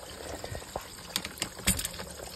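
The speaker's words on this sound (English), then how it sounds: "can you hear the bubbles?" Air bubbles in a boiler heating system gurgle and bubble through the pipes, with irregular pops and trickles at low level, fairly close.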